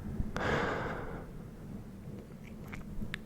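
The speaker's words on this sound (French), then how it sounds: "Tu vas répéter ces grandes respirations 3 fois." One long, deep breath is blown out slowly and softly close to the microphone, a breathy exhale lasting about a second over quiet low background hiss, followed by faint small clicks.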